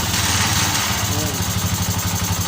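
A motorcycle engine running without a proper tune, held alive on the throttle, a loud, steady close chugging drone throughout, with a voice talking faintly underneath.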